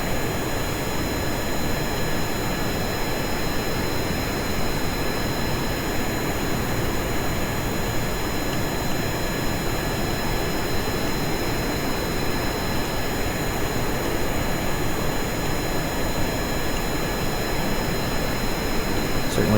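Continuous roar of a jet aircraft engine in Kerbal Space Program, a steady loud whine with high tonal hum, unbroken for the whole stretch.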